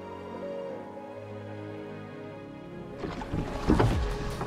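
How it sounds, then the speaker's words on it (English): Quiet ambient hum, then gentle splashing and knocking of oars dipping into water, close by, as a boat is rowed on a quiet river. "There's something very tranquil about rowing on a quiet river."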